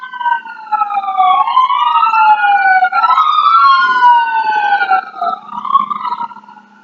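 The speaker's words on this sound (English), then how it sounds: "Goes the siren." A loud wailing siren rises and falls repeatedly, several overlapping tones sweeping up and down, close by and sustained throughout.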